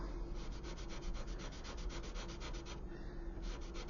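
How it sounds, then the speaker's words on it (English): A sanding stick rubs against the plastic superstructure of a 1/200 scale USS Curtis Wilbur model, a steady, rapid back-and-forth scratching close up with a brief pause near the end. "be a little bit careful with your sanding."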